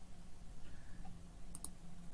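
A computer mouse clicks twice in quick succession, sharp and close, in a quiet indoor room with a low steady hum beneath.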